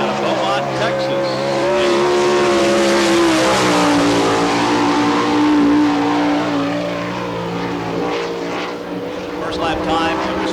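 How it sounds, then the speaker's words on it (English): A number 8 sprint car races around a dirt oval at Barberville, Florida, its loud engine roaring steadily near and shifting pitch through the turns for the whole stretch, with a track announcer talking over it. "Johnny Bankston on the racetrack in the sprinter number 8"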